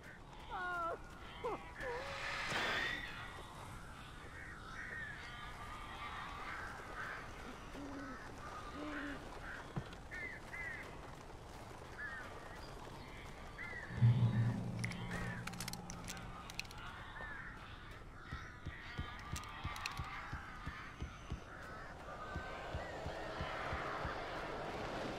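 Crows cawing in the video game Alan Wake, scattered harsh calls over a dark ambient bed with a louder burst midway.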